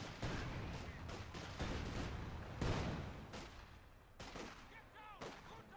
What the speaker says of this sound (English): Bit of explosions there. Grenades going off. Lots of explosions.